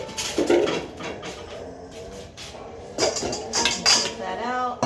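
A spatula scrapes stiffly beaten egg whites for a sponge cake out of a mixing bowl, with clinks and scrapes against the bowl under a person talking.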